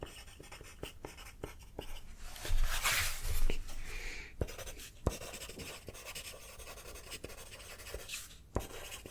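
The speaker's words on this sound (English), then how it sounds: "Sorry, I have to write down everything you're saying" A pen scratches across paper in close, quiet strokes, with irregular scribbling and occasional taps heard alone throughout.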